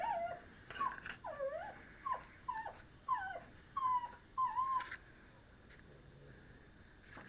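A neighbouring dog two walls away whines and whimpers in a string of short rising yelps, muffled and moderately distant, then falls quiet.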